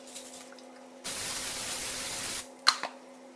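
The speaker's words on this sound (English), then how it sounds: "I'm about to spray that with olive oil spray" Olive oil cooking spray hisses in one steady burst of about a second and a half, close and fairly loud, followed by a couple of small clicks.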